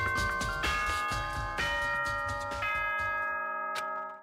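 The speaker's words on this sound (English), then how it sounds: "Ding dong, ding dong." A bright ding-dong chime from the Danganronpa video game rings out in several clear, sustained tones over backing music, with no talk alongside.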